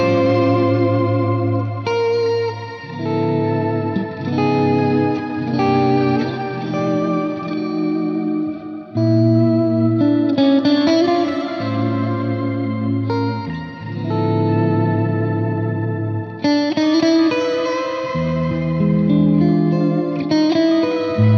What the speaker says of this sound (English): I'm going to add the shifter delay on top of it to get really wacky